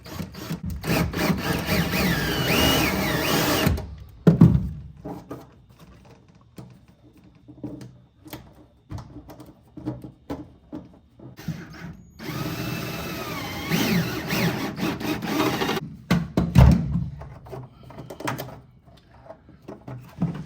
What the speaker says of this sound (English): I'm just going to drill a small little hole in this punch-out right here